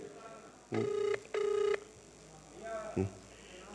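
Two long electronic ringing tones with a pause between them, heard over a line, followed by a faint shorter tone and quiet background noise.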